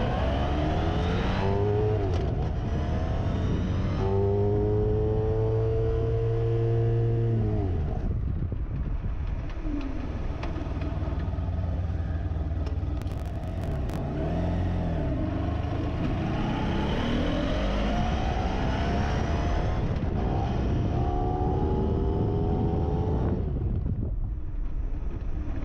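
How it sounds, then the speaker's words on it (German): A motorcycle on a rider training course at Groß Dölln brakes hard from 100 km/h: the engine revs and drops sharply, followed by heavy wind noise and road rumble as the bike slows and rides on. "Wir machen jetzt eine Gefahrenbremsung aus einer Geschwindigkeit von 100 km/h."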